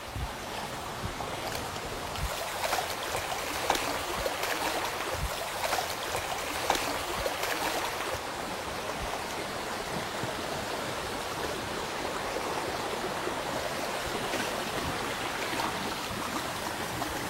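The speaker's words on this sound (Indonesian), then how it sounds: "Terus lagian juga sungai ini pun alirannya cukup kecil kayak anakan sungai gitu kan" A small, narrow river stream flows steadily in an outdoor natural setting, a continuous broadband rushing of water with some wind noise, loud and even throughout with no talking.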